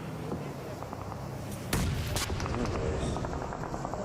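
Grenade blasts in PUBG during a world cup esports match: a sharp, loud explosion cracks out near the middle, then a second one follows quickly, over steady background gunfire and game noise.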